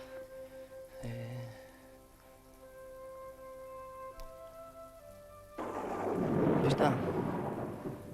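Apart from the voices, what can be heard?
thunderstorm with thunder and rain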